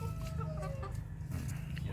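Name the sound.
Polish and Light Brahma chickens clucking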